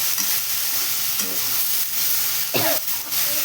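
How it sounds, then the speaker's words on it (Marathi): Okra sautéed in a small amount of oil in a pan sizzles steadily and close by, with occasional stirring scrapes and a sharper clatter near the end. "भेंडी परतून घ्यायची आहे आणि त्याला तेल जास्त टाकायचं नाही"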